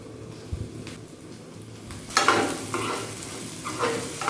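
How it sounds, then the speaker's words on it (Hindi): Capsicum and paneer sauté in hot oil. A quiet start with a light knock gives way to a louder burst of sizzling and stirring that carries on to the end. "ऑयल के अंदर वेजिटेबल को सौते करेंगे"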